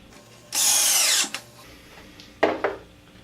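A power drill with a Phillips head bit drives a drywall screw in one sustained whirring burst that winds down, followed by two short, sharp bursts of the drill. No one speaks.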